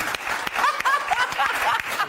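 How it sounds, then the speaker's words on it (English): Brief studio audience applause on a comedy talk show, a short burst of clapping with a little laughter mixed in. "OK, round of applause for that one Thanksgiving fact"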